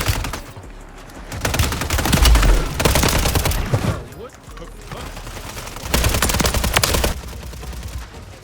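Rapid bursts of automatic gunfire in a fast-paced shooter video game, loud and dense, with two heavy volleys and a lighter stretch of shots between them.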